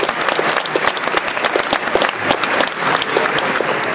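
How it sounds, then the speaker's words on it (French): Sustained audience applause at a science-fiction festival award ceremony, dense steady clapping from a large crowd filling the room without a break. "Ces applaudissements, j'espère qu'ils les entendront où qu'ils soient"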